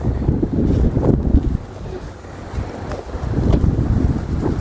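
Wind blows hard, gusting across the microphone in low rumbling buffets that ease off briefly before surging back; no one speaks.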